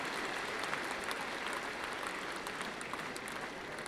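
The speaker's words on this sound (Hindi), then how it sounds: "दोनों हाथ उठा के जोरदार तालियां बजा के हमारे नेतृत्व का स्वागत कीजिए," Sustained applause from an audience at a political party national council meeting, a dense steady wash of many hands clapping for the full stretch with no talk over it.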